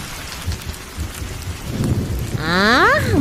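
Steady rain and rumbling thunder in a Bengali horror cartoon, a continuous downpour building in loudness, with a rolling thunder swell near the middle and a bright swooping effect tone at the end.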